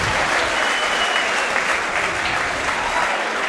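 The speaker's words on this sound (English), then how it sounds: "how about a round of applause for both of these athletes getting things started off in style tonight in Fall River" Audience applause for fighters at a fight event in Fall River, Massachusetts: a dense, steady wash of clapping from a crowd, sustained loudly throughout.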